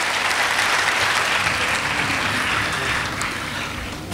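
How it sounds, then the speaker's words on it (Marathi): Steady applause from an audience welcoming a district collector at a career guidance camp, dense continuous clapping holding loud and even throughout with no voices over it. "सगळ्यांनी जिल्हाधिकारी महोदयांचं आपण टाळ्या वाजवून स्वागत करूयात"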